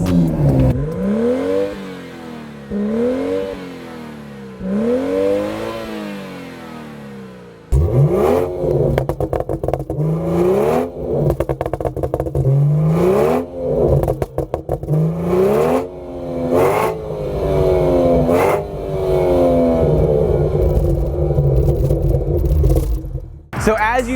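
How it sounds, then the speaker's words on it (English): A BMW F30 340i with the B58 engine and an AWE axle-back exhaust revs repeatedly in loud rising and falling sweeps, first a few slow blips and then sharper, more aggressive revs after the engine catches, close and continuous. "this AWE exhaust is incredible on this B58 340i"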